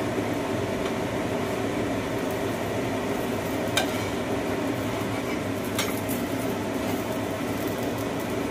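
A dosa brushed with butter sizzles on a hot pan, a steady close frying hiss running throughout with a couple of faint clicks, no voices.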